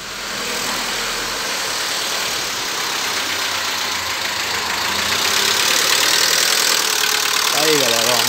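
An old car's cold engine idles close by with a steady rumbling chug that grows slightly louder, and a person talks near the end.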